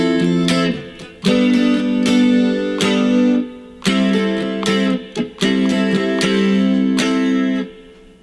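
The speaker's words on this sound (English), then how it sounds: "Next, we'll play some chords, and the chords will sound like this." Electric guitar strumming chords from a song with an effects-laden, chorus-like tone, several ringing chord hits in rhythmic bursts with short gaps, played alone and fairly loud.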